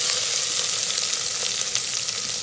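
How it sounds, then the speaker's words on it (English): Onion sautéing in an Instant Pot, a steady, loud, close sizzle and crackle of frying that holds even throughout, with faint stirring. "Onion needs to be fried,"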